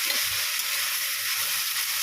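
Yardlong beans and potatoes fry in oil in a pan, giving a steady, close hiss and sizzle that runs unbroken without any voices.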